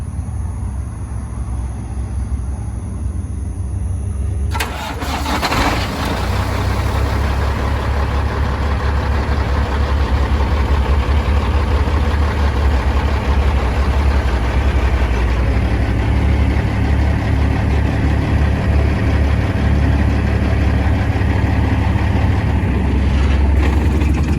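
Peterbilt diesel truck remote-started at a dealership in Miami, its engine cranking to life after a brief quiet lead-in, then settling into a steady, loud, deep diesel idle that continues for the rest of the stretch without speech.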